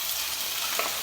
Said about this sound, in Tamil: வெங்காயம் சேர்த்து நல்லா வதங்கிடணும்.